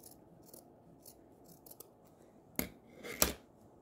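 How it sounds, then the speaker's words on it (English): Scissors snip through a skirt's waistband during an alteration, a few faint rustling cuts followed by two sharp, close snips near the end, with no talking. "so I need to cut off the band here"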